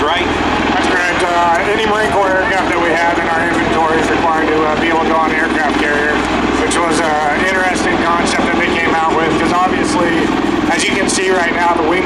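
An MV-22 Osprey tiltrotor aircraft flies a demonstration at a military open house, its loud, steady rotor and engine roar filling the air continuously while a voice talks over it.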